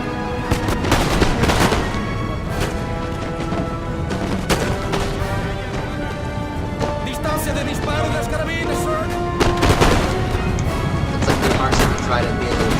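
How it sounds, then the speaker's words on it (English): Musket volleys in a Napoleon Total War battle between Portugal and Denmark, dense overlapping crackling shots and booms rolling continuously, with someone commentating over the gunfire. "now it's just going to come down to a firing back and forth"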